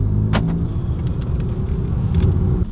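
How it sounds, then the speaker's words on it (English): A manual-transmission car pulls away gently with a little throttle, a steady low engine rumble running close and continuous throughout. "So good, you got the car rolling."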